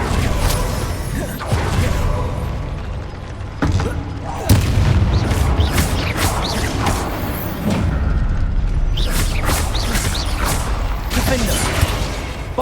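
Repeated Bombarda spell blasts from the Hogwarts Legacy video game, heavy booming explosions with crackling debris bursting one after another over a dense, continuous battle din.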